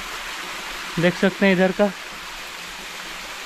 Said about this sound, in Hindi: पानी का बहाव कम है लेकिन मज़ा आ रहा देखने में